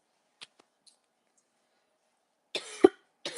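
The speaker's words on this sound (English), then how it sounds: "And hold on, because I'm going to cough." A single person coughs nearby, a harsh, quick burst followed by another short cough after a brief pause, with soft faint clicks earlier in an otherwise quiet room.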